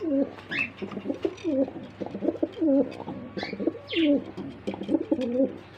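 German Beauty pigeons coo in steady, throaty rolling phrases, close and continuous, with a few faint chirps from other birds mixed in.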